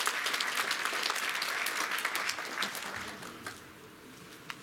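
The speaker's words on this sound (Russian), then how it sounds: "Аплодисменты нашей компании" Audience at a corporate success-day event applauding their company, a dense wash of many hands clapping that fades gradually toward the end, with no talk over it.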